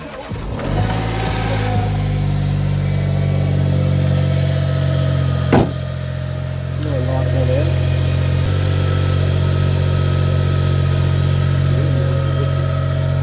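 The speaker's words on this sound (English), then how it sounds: "Let's start the car up." A Smart ForTwo 450 engine cranks, catches and settles into a steady, loud idle nearby, holding even and close with a sharp knock partway through.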